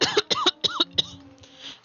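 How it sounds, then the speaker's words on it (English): A person coughs in a quick series of sharp, close bursts, about six hacks in succession followed by a short wheezy trailing breath. "I was coughing"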